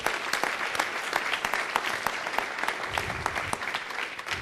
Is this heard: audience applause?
yes